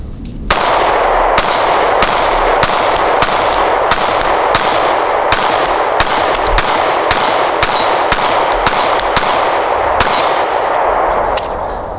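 Canik MC9 Prime compensated pistol firing, a long rapid string of sharp, loud gunshots in quick succession, each crack ringing with a metallic edge, close and without talk.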